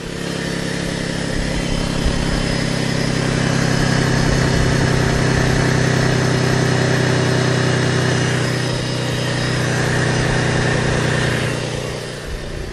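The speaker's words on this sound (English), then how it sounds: "Little exhaust leak." A 2008 Buick Enclave engine idles close by, a steady mid-range drone with a raspy, ticking exhaust leak running through it, continuous and fairly loud with no talking.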